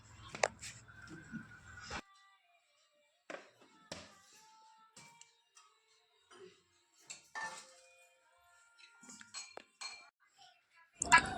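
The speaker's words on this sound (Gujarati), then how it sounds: "તો આ રીતે હલાવી દેવાના એટલે અંદર બરોબર મિક્સ થઈ જાય." A spoon clinks and scrapes against a pot while bhungla batata, spiced potatoes, is stirred in a Gujarati home kitchen. Scattered close metallic taps and clatter come in short bursts separated by quiet pauses.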